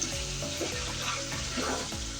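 Chicken sautés in oil in a pan, giving a steady, close frying sizzle with faint stirring and a low hum underneath.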